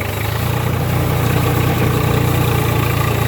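A tractor engine in the video game Farming Simulator idles and chugs steadily, a loud, even low rumble with no talking.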